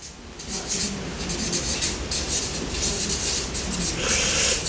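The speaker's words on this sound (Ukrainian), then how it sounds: "Отож, давайте запишемо." Notes being written by hand, a close, continuous scratching of pen on paper in uneven strokes, fairly quiet with no talk.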